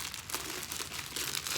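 Thin plastic wax-treatment bags for hands crinkle and rustle continuously as they are handled close by, with a denser burst of crackling toward the end.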